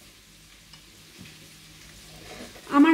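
Onion and garlic drop into hot oil for a brinjal and dried fish curry, a quiet background hiss that bursts into a loud close sizzle in the last moment.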